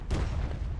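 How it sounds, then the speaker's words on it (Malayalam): Birthday firecrackers burst at a distance, giving a brief muffled boom followed by a fainter second pop within a second. "അവര് ബർത്ത്ഡേ വെടി പൊട്ടിക്കുന്നതായിരിക്കും."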